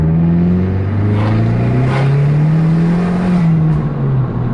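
A modified car accelerates hard, its engine note rising steadily in pitch as it pulls through the revs, loud and close, with a brief dip near the end as it shifts, no talking.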